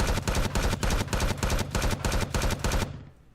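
Sustained rapid automatic gunfire aimed at a target in the video game Empyrion, loud, close and evenly paced, stopping abruptly near the end.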